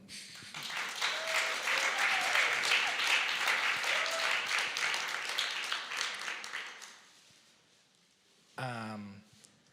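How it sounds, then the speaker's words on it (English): An audience applauds a science fiction panel, giving sustained, dense clapping for about seven seconds that fades out before a voice briefly speaks at the end. "please applaud this panel"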